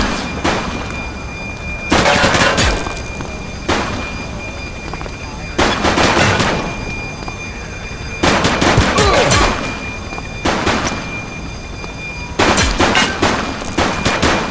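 Bursts of automatic gunfire in the police video game The Precinct, several loud rapid volleys a few seconds apart with sustained rattling between, close and dominant, voices briefly heard.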